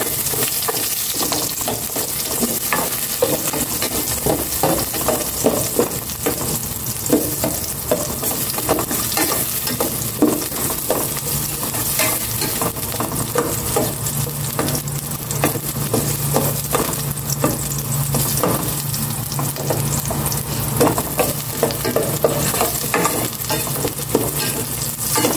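Onions sizzling steadily in a frying pan while being stirred, with a continuous loud hiss and frequent scraping of the utensil against the pan, close and unbroken throughout, no talk.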